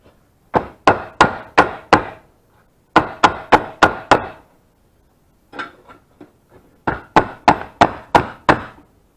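Runs of rapid, evenly spaced hammer blows on a creased metal car panel, close and sharp, falling into several bursts with short pauses between them.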